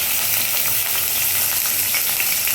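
Onions and chilies frying in hot mustard oil for tadka dal, a dense, loud, continuous crackling sizzle with no talking.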